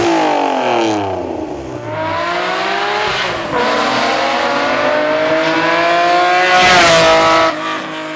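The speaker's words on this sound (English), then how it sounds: "The 2002 Acura NSX NA2, also known as the Honda NSX outside of North America, is a mid-engine sports car manufactured by Honda" A 2002 Acura NSX NA2 mid-engine sports car in a Need for Speed game, its engine revving up through rising gear sweeps with tire squeal, loud and close, with no talk.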